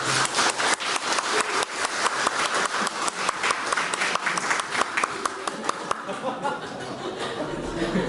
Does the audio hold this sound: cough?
no